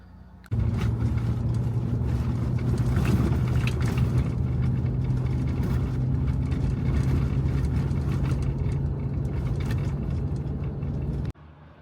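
A car on an overland road trip through Wyoming drones steadily from inside the cabin, its low engine and road rumble holding constant and loud for about eleven seconds before cutting off abruptly.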